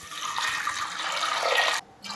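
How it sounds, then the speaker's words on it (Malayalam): Water is poured into a pressure cooker holding soaked cowpeas, a steady bright splashing stream for under two seconds that stops abruptly. "ഇനി ഇത് വേവാൻ ആവശ്യത്തിനുള്ള വെള്ളം ഒഴിച്ചു കൊടുക്കുക."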